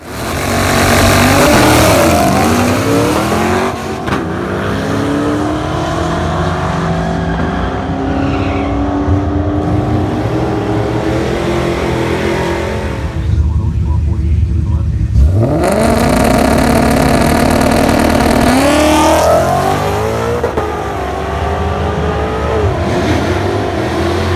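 A loud 2011 Ford Mustang Coyote V8 with a Vortech supercharger and 165,000 miles launching at 3,500 rpm down a drag strip, revving hard with rising gear sweeps, a brief lull, then another roaring run.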